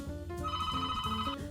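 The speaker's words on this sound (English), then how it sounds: "Did you hear that? I think I better answer the phone." A desk telephone in an office suite rings with a steady electronic tone, one continuous ring pattern heard close and clear, with no talking over it.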